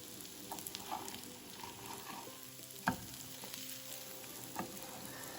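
Mixed vegetable cutlets fry steadily in a pan over a medium-high flame, a soft continuous sizzle with scattered pops and one sharper crackle, close and fairly quiet with no talking.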